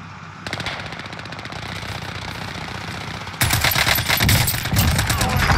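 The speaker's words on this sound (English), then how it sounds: "They're shooting each other." Rapid machine-gun fire from Call of Duty Warzone rattles in a steady stream, then jumps louder and denser as a second weapon joins in close by.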